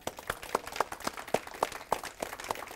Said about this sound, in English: Can we do some applause?